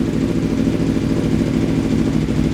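A motorcycle engine idles steadily with a rough, low, lumpy rumble, close and constant throughout with no talking.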